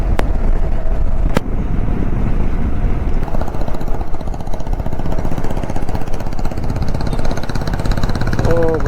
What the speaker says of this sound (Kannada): ಓ ಗುರು, ಡೀಸೆಲ್ ಇಂಜಿನ್ ಗುರು ಇದು.